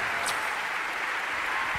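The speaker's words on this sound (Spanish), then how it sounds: "Fuerte el aplauso." A television studio audience applauds steadily, a dense, even wash of clapping filling the whole stretch at moderate level.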